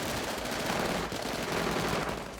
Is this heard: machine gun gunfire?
yes